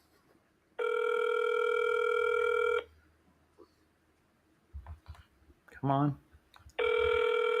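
A telephone rings on an outgoing call, two long electronic ring tones a few seconds apart with a third starting at the end, and a man's brief muttering in the gap between.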